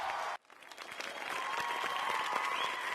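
Audience applause in a television game show studio for a contestant, a broad steady clatter of many hands that starts after a brief pause and holds at an even level.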